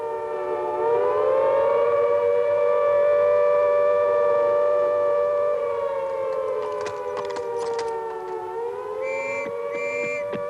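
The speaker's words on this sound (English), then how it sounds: "Within seconds, the sirens sound." Air raid civil defense sirens wail loudly and steadily, their rising and falling tones overlapping for the whole stretch, with a few sharp tonal beeps breaking in near the end.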